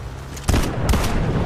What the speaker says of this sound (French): Ouais, ça tire là-bas, je vois.